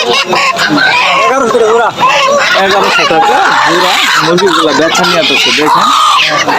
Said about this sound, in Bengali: এই পাশে দেখেন অনেক দেশি মোরগ আছে হাঁসও আছে দেশি হাঁস আছে